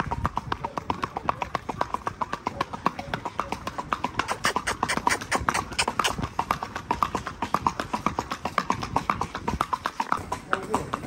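Horse hooves clip-clop in a steady, quick rhythm throughout a trail ride, close and continuous, with faint voices now and then in the background.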